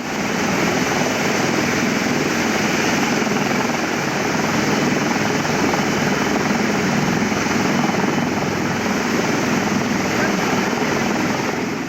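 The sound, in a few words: helicopter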